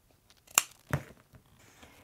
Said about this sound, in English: Leave a small seam allowance and then cut off this little point